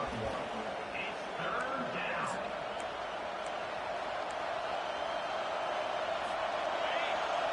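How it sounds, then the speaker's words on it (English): Steady, dense roar of a large football stadium crowd at a Penn State game, a continuous broad wash of noise with no speech in the clip. "The roar of the crowd trying to fuel this defense to keep them pinned in their own end."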